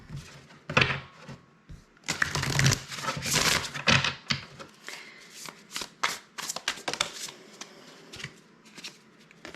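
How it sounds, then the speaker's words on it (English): Tarot cards being shuffled by hand, a burst of dense riffling and crisp flicks followed by scattered lighter taps and slides, close and fairly quiet with no talking. "That was a weird shuffle."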